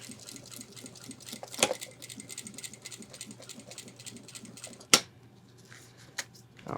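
A sewing machine slowly stitches the handle seam of a homemade 30L ultralight hiking backpack: a steady, close mechanical chatter with a couple of sharp clicks, no voices.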